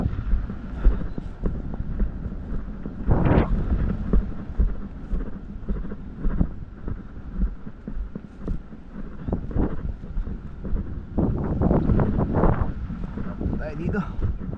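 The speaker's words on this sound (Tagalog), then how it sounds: "medyo mahangin na naman po." Steady wind buffets the microphone outdoors at an overnight campsite, a low rumbling roar throughout with occasional gusts, while a person speaks Tagalog over it.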